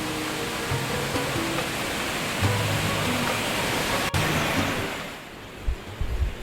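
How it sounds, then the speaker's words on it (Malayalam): Rushing water surging steadily behind a roadside tea shop on a hill drive toward Marayur, a loud, broad, continuous roar that fades somewhat near the end. "ആ കാഴ്ചയും കുത്തിയലച്ചൊഴുകുന്ന വെള്ളത്തിൻ്റെ ശബ്ദവും എല്ലാം അത് കണ്ട് ഞങ്ങൾ ത്രില്ലടിച്ചു കൊണ്ട് നിന്നു"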